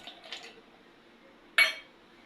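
A few soft clinks as seeds and ingredients are dropped into a kitchen mixer jar, ending in one sharper clatter.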